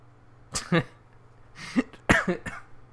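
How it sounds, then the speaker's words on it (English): A couple of sharp coughs, then more coughing bursts and throat sounds, close to the listener against a faint steady hum. "That made me cough."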